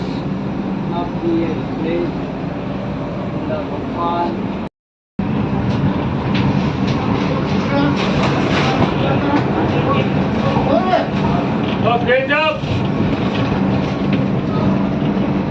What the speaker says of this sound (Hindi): सामने खड़ी है जनशताब्दी एक्सप्रेस